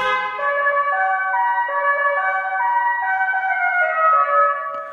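A custom sound set for a Tesla Model 3 horn, a steady siren-like melodic tone with stepped pitch changes, loud and continuous throughout.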